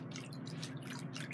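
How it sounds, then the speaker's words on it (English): A Chalk Couture stencil is lowered into water, giving soft wet drips and splashes over a low, steady background hum, close by and quiet. "So let me put this into the water."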